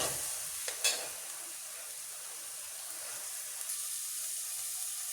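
Chopped ginger, garlic and onion hit hot oil for a fish curry, giving a steady, fairly quiet sizzle with a brief clatter of stirring near the start.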